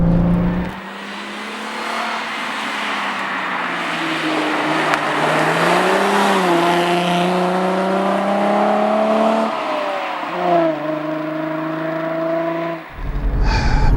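An Alfa Romeo Alfetta GTV6 with the 2.5 Busso V6 and transaxle layout drives past up close, its loud engine note climbing and shifting pitch through gear changes, steady and unbroken, with no talk.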